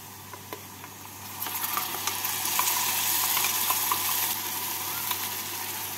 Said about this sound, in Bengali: পেঁয়াজগুলোকে বাদামি করে ভেজে নিলাম। এবার এর মধ্যে দিয়ে দেবো বেটে নেওয়া মশলা।